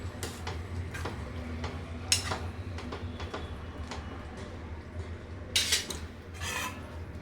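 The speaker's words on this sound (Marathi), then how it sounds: "हलवून घेऊया." Aloo methi matar with fresh coriander stirred in a pan, a series of quick close scraping and tapping strokes from a spoon against the pan, irregular and fairly quiet over a low background hum, no speech.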